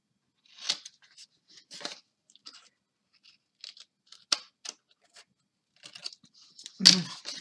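Scissors snip and bevel small paper tabs for a scrapbook album, in a string of short, crisp cuts and paper rustles separated by pauses, close up and quiet, ending in a louder crunchy cut.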